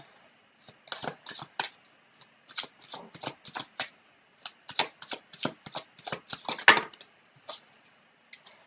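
Tarot cards shuffled by hand, repeated close crisp riffling bursts in uneven clusters with short pauses, fairly soft and without talk.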